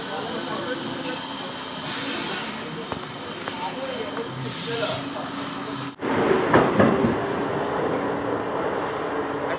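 Inside an Indian passenger train carriage travelling from Digha, a steady rumble and rattle of the moving coach fills the clip, growing louder and rougher partway through, with no voices.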